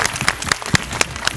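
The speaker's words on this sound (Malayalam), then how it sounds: "ആദ്യം നല്ലൊരു കൈയടി കൊടുക്കാം." Audience applause rising at a TV Onam celebration with serial stars, a dense patter of claps with sharper individual hits standing out, close and fairly loud, no talk over it.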